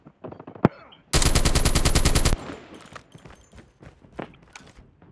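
Call of Duty gunfire: a sharp single shot, then a loud rapid automatic burst lasting about a second, followed by scattered quieter shots and footsteps.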